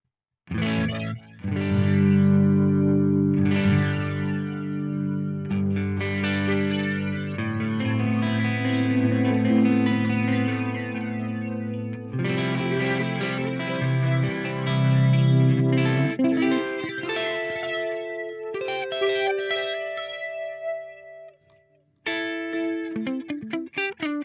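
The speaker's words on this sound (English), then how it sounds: "I really liked it's like a spectral delay or something" A GFI Specular Tempus spectral delay pedal processes guitar with smeared, chorus-like repeats and reverberant tails, loud and continuous across sustained chords and notes, briefly dropping out near the end before resuming.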